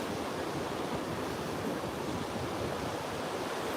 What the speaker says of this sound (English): We're down here at the inlet end of the beach.